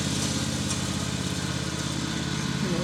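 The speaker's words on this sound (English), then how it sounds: "doing a little mowing" A lawn mower engine drones steadily at a distance while mowing grass in a backyard, a constant moderate hum with no talk over it.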